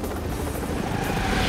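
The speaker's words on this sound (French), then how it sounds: "Moi, c'est Y, l'incroyable machine volante. Préparez-vous au décollage." A cartoon flying machine lifting off, a loud continuous rotor-like whir and roar building slightly over a second and a half, with no talking.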